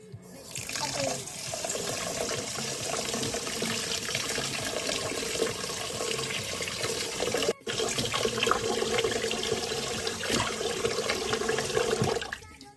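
Tap water runs continuously into a pot as rice is washed in a home kitchen, a steady, fairly loud splashing rush that drops out once for a moment before carrying on.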